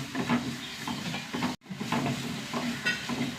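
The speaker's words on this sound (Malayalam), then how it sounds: "തക്കാളി ഒന്ന് വഴണ്ട് വരട്ടെ" Ripe tomatoes sautéing in a pan: a steady sizzle and hiss with occasional stirring scrapes, continuous and close, with a brief gap partway through.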